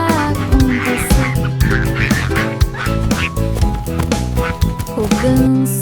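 A goose honks repeatedly over loud, busy backing music in a children's song, with the calls blended into the melody rather than standing alone.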